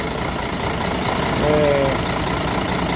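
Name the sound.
Scania 110 1969 turbocharged truck engine idling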